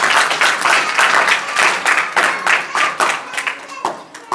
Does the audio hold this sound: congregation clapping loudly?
yes